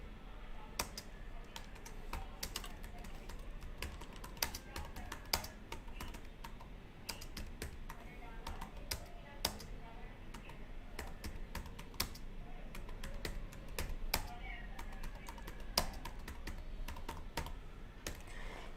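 Answers are typed on a computer keyboard during a live online English grammar class: a quiet, irregular run of close key clicks with short pauses between bursts, going on the whole time.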